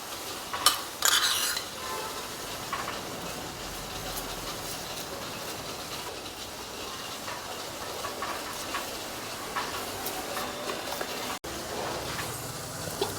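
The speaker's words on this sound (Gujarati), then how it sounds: "હવે વઘાર છે આપણે ઢોકળા ઉપર રેડી દઈશું." Hot oil tempering is poured over soft, spongy dhokla and gives a soft, steady sizzle that holds for several seconds. A few brief clinks from the utensils show up near the start.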